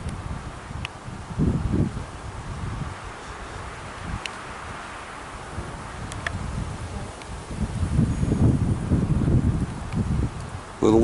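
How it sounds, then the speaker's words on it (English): Wind gusts buffet the microphone outdoors, with low rumbling bursts rising and falling over a soft rustling background. "A little windy out here."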